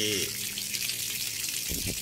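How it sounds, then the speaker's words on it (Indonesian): Water gushes steadily from a tap just after a broken pipe inside a wall is repaired, a continuous loud hiss filling the whole clip while someone speaks briefly at the start and end. "Sekarang kita ada buka air, kita akan coba tes."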